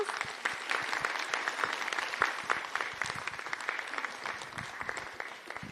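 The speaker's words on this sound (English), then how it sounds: "If we can get a round of applause" Audience at a radical book fair panel applauds the speakers, a dense, steady wash of many hands clapping for several seconds at moderate volume.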